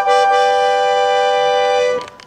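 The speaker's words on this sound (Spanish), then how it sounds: "Por ejemplo, esta nota así, abriendo," A single sustained bandoneon note held steady while the bellows open, bright and reedy with rich overtones, loud and close, ending with a brief fade as the bellows change direction.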